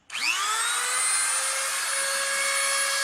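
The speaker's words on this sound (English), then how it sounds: "let's make our feather groups with the Dremel here" A Dremel rotary tool spins up with a rising whine and then holds a steady, loud high-pitched drone while carving feather groups into a wooden cardinal, running alone with no talk.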